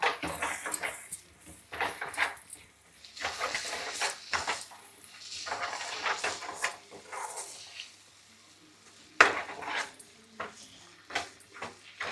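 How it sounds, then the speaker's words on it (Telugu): Four eggs being mixed in a bowl in a home kitchen: irregular clinking and scraping strokes, bursts of stirring separated by short pauses, close and fairly loud, with no talking. "ఒక 4 గుడ్లు అయితే వేస్తున్నాను, కలుపుకుందాం."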